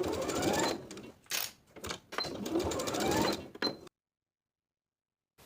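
Sewing machine basting the straps of overalls in place, several bursts of rapid stitching separated by short pauses, close and clear, then stopping into silence.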